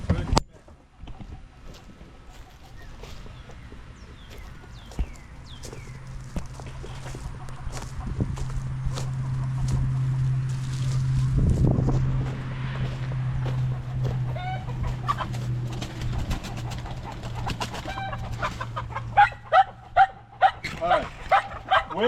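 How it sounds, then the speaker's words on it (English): Freedom Ranger chickens cluck in short, scattered bursts inside a coop while someone catches them. A dog barks, a low motor hum drones in the middle, and a voice is heard now and then. "I'm gonna go in here and catch these chickens."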